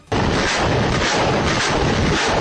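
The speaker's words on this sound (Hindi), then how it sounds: "यूक्रेन ने खैरसॉन को भी एक वीडियो जारी किया, जिसमें मल्टी बैरल लॉन्चर से उसकी फौज रूस पर हमले करती नजर आई।" Multi-barrel rocket launcher firing in a combat zone near Kherson, a dense, continuous roar of launches and blasts filling the whole span at high, steady loudness with wind buffeting, no voices.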